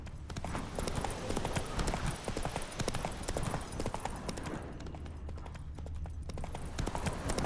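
Roach the horse from Witcher 3 trots steadily, producing a dense run of clip-clopping hooves that stays loud and continuous throughout.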